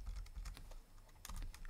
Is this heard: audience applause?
no